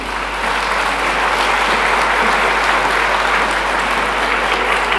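Sustained audience applause fills the hall at an African Group gala evening at UNESCO, a dense, even clapping from a large crowd lasting throughout without any break.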